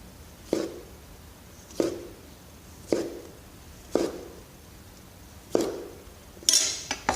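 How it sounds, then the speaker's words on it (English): A knife cuts down through a washed tomato on a board while chicken fried venison is plated, giving six separate sharp taps spaced about a second apart, close and fairly quiet, with a brief clatter at the end. "Slice it down."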